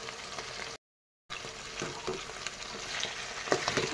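Chicken curry meat with cumin, coriander and red chili powder sizzles and is stirred in a pan, a steady close frying hiss with scraping stirs, briefly cut to silence near the start.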